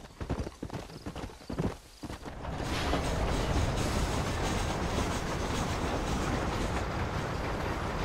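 Horse hooves clattering briefly in Red Dead Redemption, then a loud, dense rushing rumble takes over and continues steadily to the end.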